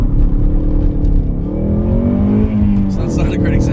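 A 2015 Ford Mustang EcoBoost Performance Pack with 6-speed manual launches from about 3,000 RPM, its turbo engine roaring loud and close while the rear tires spin and squeal throughout.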